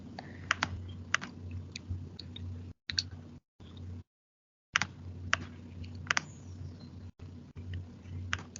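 A computer mouse clicks a plus button on an on-screen map over and over, in sharp, close, fairly evenly spaced clicks against a faint steady hum, with a few brief dropouts.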